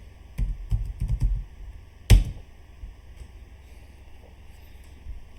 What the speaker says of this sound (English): So to change it back, I'll just come here and type Kali-undercover.